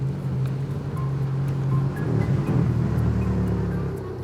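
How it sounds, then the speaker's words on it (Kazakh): A car pulls up with a low engine hum that swells and grows closer around the midpoint, over a soft outdoor background with no talking. "Бул башка машина экен."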